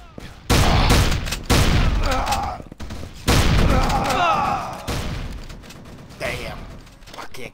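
Shotgun blasts in the video game Assault Cube, several loud booming shots in irregular succession with brief gaps, close and punchy, with a few quieter shots toward the end.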